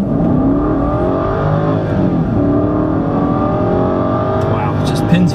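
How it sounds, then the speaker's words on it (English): BMW 550i V8 pulls hard in first gear with sport mode on, a deep rising engine note climbing smoothly through the revs from inside the car, with someone talking over it. "Pins you back, and it makes such a distinct V8 sound."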